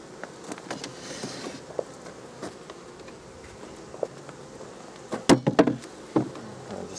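Honey bees buzz faintly around hive frames during an inspection, a soft steady hum broken near the end by a few sharp knocks and scrapes of handled frames.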